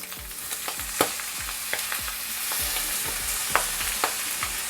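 Prawns and soy sauce stir-fried into fried rice in a hot pan, with a steady close sizzle and repeated scraping strokes of a utensil at an even rhythm, and no voices.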